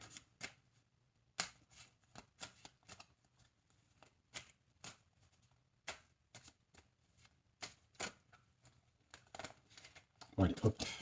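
Tarot cards being shuffled in repeated quick riffles and clatters, some separated by brief pauses and others coming in clusters. A voice speaks faintly at times beneath the card sounds.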